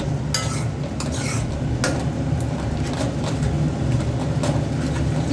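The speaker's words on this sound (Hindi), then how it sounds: "और मिक्स कर देंगे इसे" A spoon stirring vegetable masala into rajma in a cooking pot, with scraping and occasional clinks of metal over a steady low background hum, close by and without speech.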